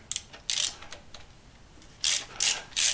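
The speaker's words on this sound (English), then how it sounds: "let's go ahead and pull this plate off, which at this point has 3 1/2-inch bolts left." A wrench works the bolts off a plate on a vintage 1800cc BMC B-series engine during a rebuild. Close ratcheting and metal scraping come in short bursts, about six, separated by quiet pauses.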